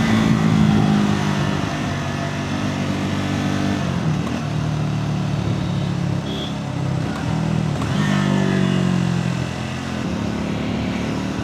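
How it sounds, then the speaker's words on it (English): A Triumph Scrambler 400X motorcycle's exhaust drones steadily while riding, a loud continuous engine note with wind rush that dips slightly around the middle and lifts again, with no talking over it. "I hope the exhaust sound is also audible enough."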